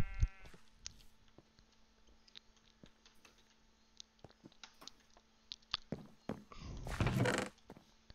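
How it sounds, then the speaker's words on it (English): A dark gray sheep bleats in a Minecraft-style skyblock game, one loud, close bleat near the end after a stretch of scattered clicks and taps. "Aw, poor dark gray sheep."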